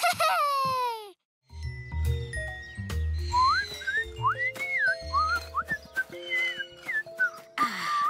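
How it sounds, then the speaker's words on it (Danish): Children's juice boxes blown like whistles in the animated show Bing make several short, sliding, squeaky whistle tones that bend up and down in pitch, rising over low musical notes and light tinkling. "I tre laver nogle interessante fløjtelyde med jeres juicebrikker."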